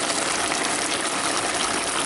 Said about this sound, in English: pour in that tomato sauce.